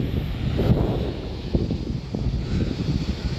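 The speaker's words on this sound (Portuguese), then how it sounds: "galera, tá ventando um pouquinho" Steady wind blows across a beach at Praia Grande, Arraial do Cabo, a low rumbling gusty rush buffeting the microphone with faint rustling throughout.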